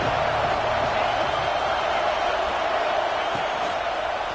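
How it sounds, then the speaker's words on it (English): A steady roar from a stadium crowd at a college football game, Auburn versus Iowa, in the NCAA 26 video game. The dense, constant noise runs throughout without a break. "This crowd going to try to make life miserable for these guys."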